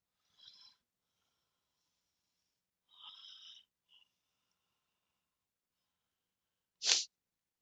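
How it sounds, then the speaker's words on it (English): A few short, wet nasal sniffs spaced apart by quiet pauses, followed by one sharper, louder sniff near the end. "Sorry about the old sniffles here, ladies and gents."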